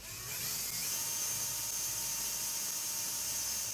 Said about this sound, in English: Using a 3/32-inch drill bit, bore 2 pilot holes in the oval markings as shown.